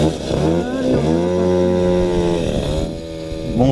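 A cold moped with a 70cc Gilardoni engine revs close by, its buzzing two-stroke note rising and falling through a few throttle blips, loud and alone without speech.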